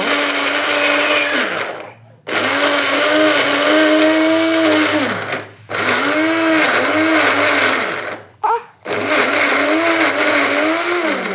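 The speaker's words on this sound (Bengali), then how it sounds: "তো আমি এখন ব্লেন্ডার করে নিব।" An electric blender grinds ginger and garlic into a paste, whirring loudly and close in three long runs separated by brief stops, the motor pitch wavering as the load shifts, and no one talks.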